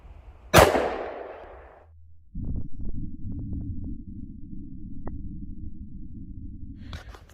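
An XDM Elite 10mm pistol fires a single Underwood 180 grain XTP hollow point into ballistic gel, giving one sharp, loud close report with a short decaying tail, followed by a low steady hum.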